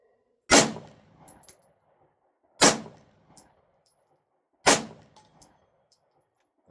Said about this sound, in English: I might shoot the rest of this out of the Casper, built by Pewski Enterprises.